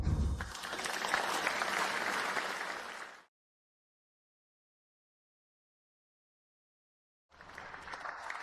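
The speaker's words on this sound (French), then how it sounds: "Venez, accueillons par des applaudissements le concepteur de la Cité des Étoiles" Applause from an audience welcoming a designer, a dense burst of clapping for about three seconds, then silence, then clapping resumes briefly.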